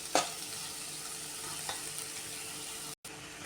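Cooked rice being stirred into mint paste frying in a pan, a steady close sizzle with a few soft scraping strokes and one short break.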